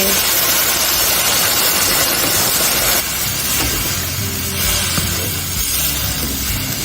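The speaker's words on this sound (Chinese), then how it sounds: "豆角倒进来也炒一炒" Green beans tossed into a hot wok with sliced pork give a steady, loud sizzle and hiss that run the whole time, easing slightly midway, with no voices.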